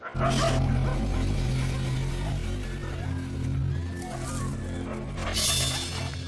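A pack of dogs barks at an approaching polar bear in the Arctic, loud repeated barks and yips rising and falling over a rough outdoor rumble, with sharp bursts near the start and end.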